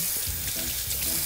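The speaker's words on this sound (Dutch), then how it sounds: "gaan we natuurlijk eerst even onze handen wassen." Tap water runs steadily into a sink as hands are washed before baking cookies, a close, continuous hissing splash over about a second with faint voices underneath.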